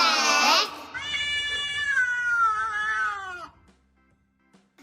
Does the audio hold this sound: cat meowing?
yes